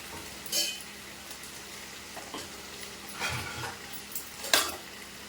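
Brinjal and potato stir-frying in a pan with a soft continuous sizzle, punctuated by several sharp spatula scrapes and metallic clinks against the pan, close and clear with no talk.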